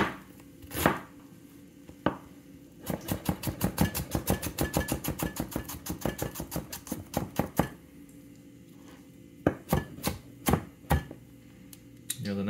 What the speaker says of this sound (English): cut an onion.